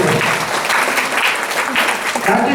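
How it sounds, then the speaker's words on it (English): Audience applause at a school Republic Day presentation for India's 71st Republic Day, rewarding a student's answer: loud, dense, sustained clapping from a crowd that fills the whole moment without a break. "Can we have a big round of applause for the gentleman?"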